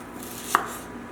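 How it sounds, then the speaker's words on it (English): A single sharp knife chop through a piece of raw chicken on a cutting board, one brief crisp hit against quiet room tone. "take them back out and cut them in half"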